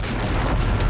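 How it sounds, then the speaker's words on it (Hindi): A loud, booming explosion from an attack on a Merkava tank roars through the whole moment, a dense rumbling blast close and overwhelming. "चंद सेकंड के बाद होता है बड़ा धमाका।"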